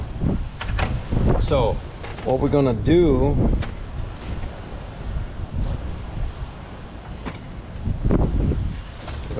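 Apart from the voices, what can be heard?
wind noise on microphone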